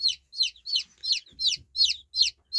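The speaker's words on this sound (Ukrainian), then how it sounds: "Малечу я поставив у брудер." Chicks in a brooder give a rapid series of about nine close, clear high peeps at an even rhythm, with faint low handling noise beneath.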